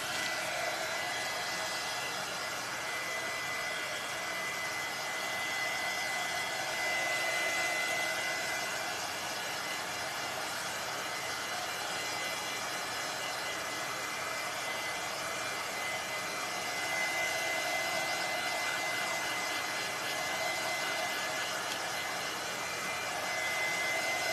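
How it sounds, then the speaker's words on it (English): A heat tool blows steadily on a store-bought craft witch hat to dry paint with tapped-in cinnamon, a constant loud airy whoosh with a faint whine, unbroken for the whole stretch with no talking. "I'm going to go ahead and hit it with my heat tool and dry a little bit."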